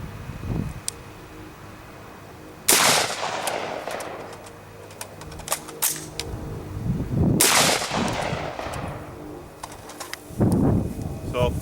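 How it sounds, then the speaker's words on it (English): An X95 rifle fires single loud, sharp shots close by, a couple of seconds apart, with metallic clicks and clatter of a magazine dropping and reloading between them, and a voice in the background. "Come up on target, fire one shot, drop the mag, reload."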